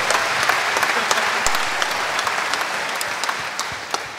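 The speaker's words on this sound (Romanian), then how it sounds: "Luterane, ridicați mâna sus. Aplaudați-i!" Thick, sustained applause from a church anniversary crowd in Bucharest, many hands clapping at once with scattered sharper claps standing out, loud and unbroken throughout.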